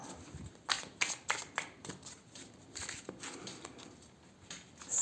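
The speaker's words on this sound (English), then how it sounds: "I'm just gonna give them a small extra shuffle." A deck of tarot cards is given a short extra shuffle close by, with quick papery riffles and soft taps in irregular bursts over a quiet room, and no one speaks.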